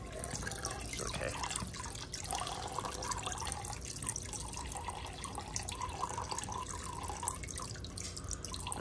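Water siphoning through a hose into a bucket makes a continuous close trickle and splash with light dripping, and the flow stays steady throughout.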